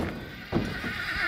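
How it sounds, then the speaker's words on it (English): A horse neighs nearby at an outdoor haunted forest attraction, a single loud whinny cutting in midway over faint hoof clops and background noise. "Oh, there's a horse that's walking by us."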